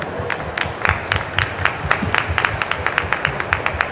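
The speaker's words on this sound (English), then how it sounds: "Give yourself a round of applause." Applause from an audience at a psychedelic science conference, a sparse crowd giving distinct, rhythmic individual claps that stay fairly even and moderate in loudness.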